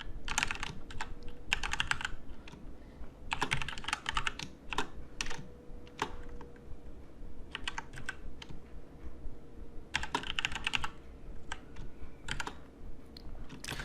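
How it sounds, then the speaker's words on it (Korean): Steady typing on a computer keyboard during a deep learning coding lesson, keys clicking in quick bursts separated by short pauses, close and clear with no talk. "아무 얘기 없이 타이핑만 하니까 낯설죠."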